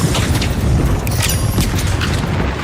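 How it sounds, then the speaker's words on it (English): A frag grenade detonates in The Finals, a dense, loud boom with crashing debris filling the whole moment amid ongoing game-fight noise. "Throwing the frag."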